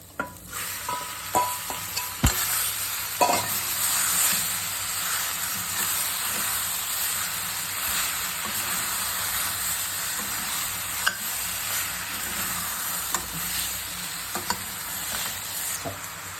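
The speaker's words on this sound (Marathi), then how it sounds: "आता त्याच्यामध्ये मॅरिनेट केलेली मोहरी ओतायची." Marinated baby shark fish hits golden fried onion masala in a pan, giving a continuous hissing sizzle with occasional stirring clinks and scrapes, close and moderately loud, with no voices.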